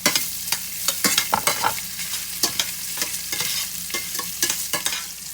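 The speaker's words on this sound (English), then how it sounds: "I'm preheating my pot on a medium-high heat with about a tablespoon and a half of olive oil, and you're gonna brown your sausage" Sausage cubes browning in about a tablespoon and a half of olive oil in a pot over medium-high heat, with a steady sizzle broken by repeated stirring scrapes and clacks. The cooking is close and fairly loud, and no one talks.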